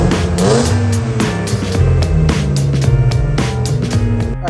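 An E36 BMW raised on jack stands revs hard in first gear, its engine rising and falling in loud, continuous surges with wheels spinning free.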